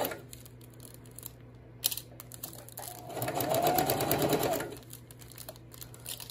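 A sewing machine stitches heavy Sunbrella outdoor cushion fabric for reupholstering, its motor whirring steadily in bursts, with a louder, denser run of stitching near the middle.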